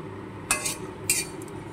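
A spoon stirs fried spice tempering in a cooking pot for paneer butter masala, making two quick metallic scrapes and clinks against the pot over a soft background hiss.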